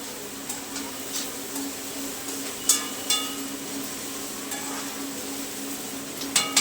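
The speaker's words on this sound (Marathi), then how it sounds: "आपण हे भाज्या मिक्स करून घेऊया म्हणजे परतून घेऊया" Mixed vegetables and onion stir-fried over low heat for Schezwan rice, a soft steady sizzle broken by occasional sharp spatula clicks against the pan, fairly quiet with no talking.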